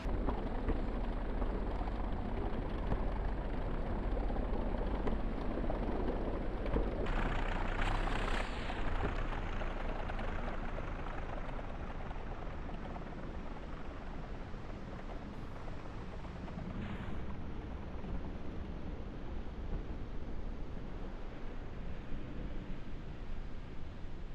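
Bombs dropped from an aircraft explode during a video game mission, a steady heavy roar of engine and rumble with a sharper burst of blast noise partway through, continuous and loud with no talking.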